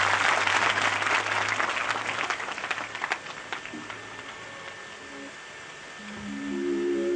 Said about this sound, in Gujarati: જોરદાર તાળીઓથી અભિનંદન